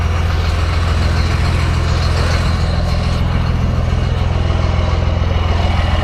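A warmed-up truck engine idles close by, a loud, steady diesel rumble that holds an even, unbroken drone with no talk.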